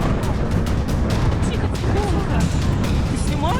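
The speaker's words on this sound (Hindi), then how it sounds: "यूक्रेन ने क्रीमिया में भयंकर विस्फोट किया है।" A wartime explosion in Crimea, reportedly striking Russia's Black Sea Fleet, produces a continuous heavy roar layered with crackling booms and rumbling bursts, with voices faintly mixed in.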